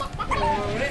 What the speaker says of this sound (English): I feel like I could take this hen and this rooster